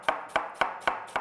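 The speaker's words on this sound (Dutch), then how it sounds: "dus laat ik nog 1 kwartje snijden." A knife chops through cabbage quarters on a board while a spicy stir-fried cabbage is prepared for four, five crisp, evenly spaced cuts sounding close and clear with no talking.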